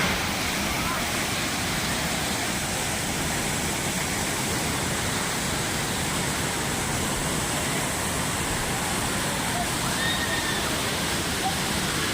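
The tall Savatkada waterfall in Rajapur, Konkan, roars loudly and steadily the whole time, a dense unbroken rush of falling water close by.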